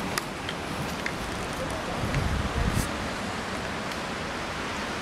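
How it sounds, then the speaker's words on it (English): Wind gusting outdoors at a former prisoner-of-war camp site in Sheffield, a broad steady rushing noise with a stronger low buffeting swell midway, close to the microphone, with faint ticks on top. "The wind is getting up."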